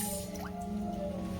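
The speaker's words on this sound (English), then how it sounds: "I'm washing my peas and then I'm gonna strain it" Dried peas being washed and strained in water for stew peas, with soft close drips and squishy wet sloshing at a low, steady level and no speech.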